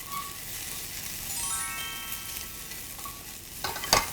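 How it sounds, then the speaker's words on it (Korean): Minced tteokgalbi meat and onions sizzle steadily as they are stir-fried in a pan, with light scraping from the stirring and a brief utensil clatter near the end. "살짝만 양파 향이 올라오면은 여기에 아까 잘게 다져놓은 떡갈비 넣어서 함께 볶아주세요"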